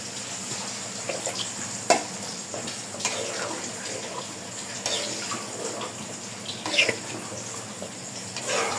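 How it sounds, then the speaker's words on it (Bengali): Water poured into a pan of cooking lentils, a continuous soft splashing and bubbling wash with a few knocks and clinks, close and moderately quiet, no talk. "এখন পানি দিয়ে দিব।"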